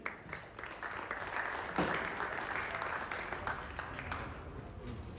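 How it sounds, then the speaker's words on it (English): An audience applauds the runner-up women's billiards team, Team Ukraine, at a European championship, a soft, steady patter of clapping from a distant crowd lasting several seconds. "Please also a round of applause for the runner-up Team Ukraine."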